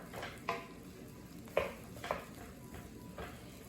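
Four cups of cooked, refrigerated rice being stirred and scraped around a wok for fried rice, with a few distinct clanks of the utensil against the metal over a faint sizzle.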